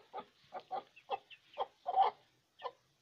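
A broody hen sitting on eggs gives a string of about ten short, throaty clucks in an uneven rhythm, near and moderately quiet, against a silent background.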